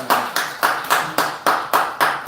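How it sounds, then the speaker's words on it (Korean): Rhythmic, evenly spaced clapping from a church congregation welcoming a guest speaker at a Bible meeting, about nine firm unison beats at a steady pace, close and fairly loud. "박수로 환영하겠습니다"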